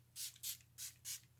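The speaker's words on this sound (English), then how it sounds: "Let's set everything down with our Model in a Bottle setting spray." Four short bursts of Model in a Bottle makeup setting spray misting in quick succession, each a soft hiss lasting about a quarter second, close and fairly quiet with no talk.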